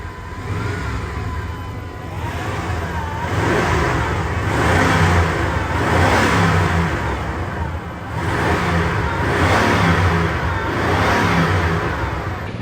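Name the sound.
1997 Chevy C1500 truck engine exhaust revving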